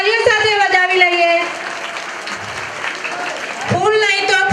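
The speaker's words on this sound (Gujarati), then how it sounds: "તાળીઓ સાથે વધાવી લઈએ." Applause from an audience at a primary school's 26 January celebration, a steady wash of clapping in the middle that sits between stretches of someone speaking over a microphone.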